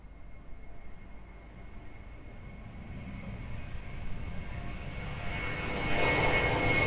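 At Lisbon Airport, a jet engine roar rises steadily from a distant rumble as an aircraft, likely a Boeing 747, powers up for takeoff on runway 02, swelling louder toward the end.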